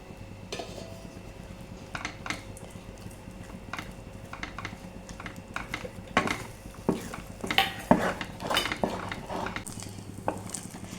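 Plantain halwa is stirred in a pan, with repeated clinks and scrapes of a utensil against the metal that grow busier and louder partway through, over a faint background hum and no speech.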